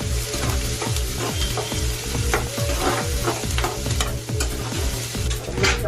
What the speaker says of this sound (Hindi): इसमें अनियन में हरी मिर्ची, अदरक मैंने डाल दी है।